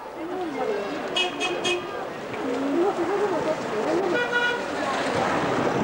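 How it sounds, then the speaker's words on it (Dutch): Car horns toot in short bursts along a road through a Chinese mountain town near Dali, with overhead wiring and houses alongside, sounding over steady traffic noise and voices talking nearby. "En toeteren doen ze graag."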